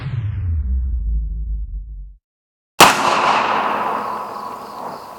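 A single loud, close blast from a 12-gauge Mossberg 500 shotgun with a 20-inch barrel firing a Remington 1-ounce, 2 3/4-inch slug. It follows a low rumble and a brief silence, then rings out and decays.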